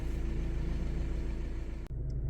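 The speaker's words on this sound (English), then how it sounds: "let's go for a drive" A Volkswagen Amarok pickup driving on the road, a low steady rumble of engine and tyres heard from inside, fairly quiet, with a brief dropout near the end.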